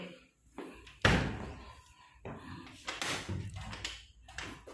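A door in a reception room at a municipal viewing tower thuds shut with a loud slam, followed by further knocks and shuffling, while someone talks throughout.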